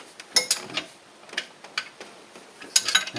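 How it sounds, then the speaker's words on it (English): A wrench working the bottom alternator bolt loose on a 2006 GMC Envoy 4.2 L inline-six during a water pump and thermostat job gives a series of faint, irregular metallic clicks and ticks, with no talking. "That noise you hear is me taking the bottom bolt out."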